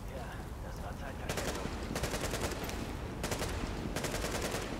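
Automatic gunfire in The Division co-op game on PS4, several sustained bursts roughly a second long separated by short pauses, loud over a constant background bed of game noise.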